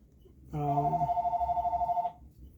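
A telephone rings once in a long electronic trill starting around half a second in, clear and fairly close, then stops; the caller goes unanswered over a quiet room.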